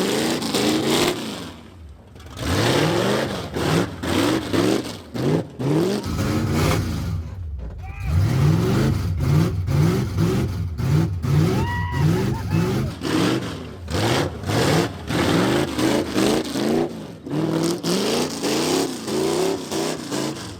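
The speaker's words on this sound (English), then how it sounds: "And what do you do when you get a car running? Well, donuts, of course." A 1968 Dodge Coronet's engine revs again and again while the car does donuts, each surge rising and falling in quick succession, with voices heard over parts of it.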